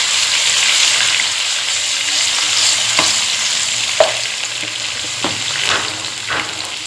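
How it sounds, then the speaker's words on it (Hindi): Chicken fries with ginger-garlic paste for chicken korma, a loud close sizzle running throughout, with scattered clicks and scrapes of stirring in the pan. "अपना चिकन डाल के अदरक लहसुन के साथ मिक्स करके इनको भी भून लेंगे"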